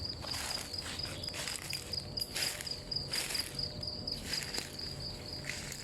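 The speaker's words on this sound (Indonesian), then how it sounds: "Ini sudah jam 6 pagi ini, jangkrik masih bunyi saudara." Crickets chirp steadily in the early morning outdoors beside vegetation, a continuous high pulsing trill that runs throughout, with faint rustles and a few louder scuffs underneath.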